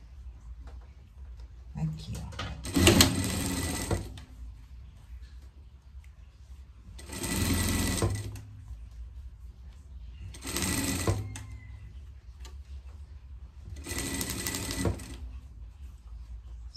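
Four separate bursts of a sewing machine stitching the finishing seam on a greyhound coat, each run lasting a second or two, loud and close, with quiet pauses between them.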